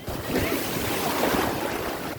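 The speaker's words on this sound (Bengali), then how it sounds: "হঠাৎ একটা ঢেউ এসে ওকে ছুঁয়ে গেল" Sea waves breaking on the sand at Puri beach in India, a steady broadband surf roar with wind noise across the whole stretch, continuous and fairly loud, with no voices.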